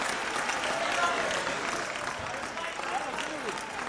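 A crowd at a Booking.com celebration event applauds and cheers in a dense, continuous wash of clapping and voices, fairly loud and steady throughout.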